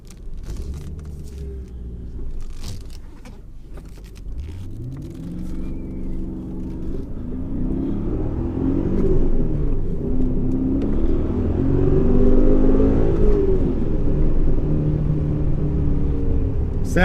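A 2000 BMW E39 M5 with its V8 and six-speed manual pulls hard through the gears, the engine note rising in steady sweeps with a shift gap, loud and close from inside the cabin.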